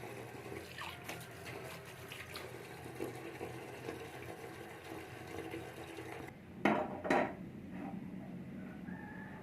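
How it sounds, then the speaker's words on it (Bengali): Boiled chicken-egg noodles drained in a kitchen, with a low steady wash of running water and light clatter, then two short louder splashing bursts of water near the end. "নুডলসগুলো সিদ্ধ হয়ে গিয়েছে এখন আমি ছেঁকে নেব নুডলসগুলো"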